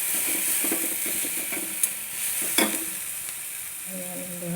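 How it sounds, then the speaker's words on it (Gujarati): Dal cooks in a small amount of oil with a soft, steady sizzle, while stirring adds a few light scrapes and clicks. "દાળ આપણે છે ને એકદમ ઓછા તેલમાં બનાવવાની છે."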